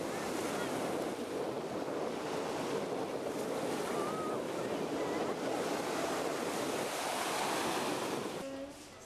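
Ocean surf washes continuously onto a beach in Girona, Spain, a broad steady roar with wind buffeting the microphone, fading slightly at the very end.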